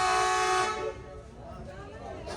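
A train horn sounds at Sheikhupura station in Pakistan, a sustained, moderately distant tone that fades after about a second into platform background noise.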